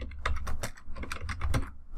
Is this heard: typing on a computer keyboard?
yes